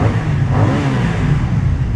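A BMW F900R motorcycle engine revs inside a tunnel, a steady droning roar with a reverberant rumble that holds fairly constant, loud and near, with no talking.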